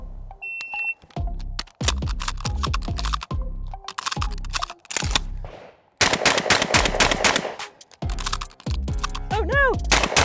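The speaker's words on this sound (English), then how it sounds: "how long does it take Lena Miculek to load and shoot exactly 41 rounds?" A shotgun is fired in fast strings of loud, sharp blasts, with rapid clicks and clatter of shells being loaded between bursts, in a timed 41-round loading-and-shooting challenge, close and dominant throughout.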